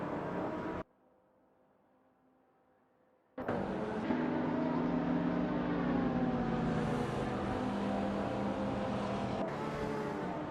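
Simulated race cars in a racing video game roar with a sustained engine drone that rises and falls in pitch, loud and continuous after a brief quiet gap near the start, with no voices.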